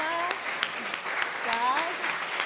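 Audience applause at a collegiate venture competition event, moderate and steady with sharp individual claps, while a speaker talks over it.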